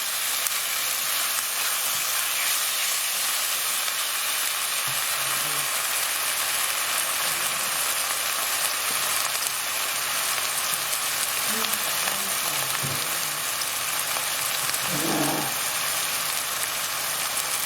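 Onions frying in oil in a pan for a chicken vindaloo sizzle in a constant loud hiss throughout, with occasional soft clinks and scrapes of a spoon stirring underneath.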